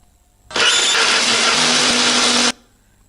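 An electric blender grinds turmeric, garlic, shallots and curly red chilies with a little water, a loud steady whirring that starts abruptly, runs for about two seconds and cuts off cleanly.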